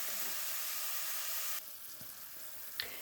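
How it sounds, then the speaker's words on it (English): Sweated onions sizzling with balsamic vinegar in a non-stick skillet, a steady hiss that drops quieter halfway through, with a faint clink near the end. "I've sweated my onions and I've added the balsamic vinegar"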